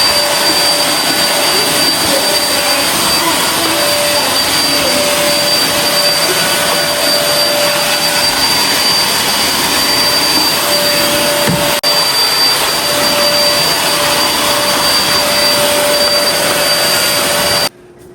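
A vacuum cleaner runs over the floor as a loud, constant high whine with a steady rushing airflow, uninterrupted for the whole stretch before it switches off at the end.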